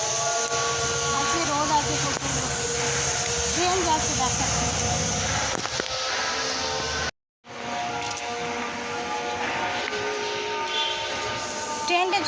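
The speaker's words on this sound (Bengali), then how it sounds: "ট্রেনটা চলে গেছে এদিকে ট্রেনে" A train rolls past outdoors with a continuous loud rumble and sustained tonal, horn-like lines. The sound cuts out briefly partway through, then the same passing noise resumes.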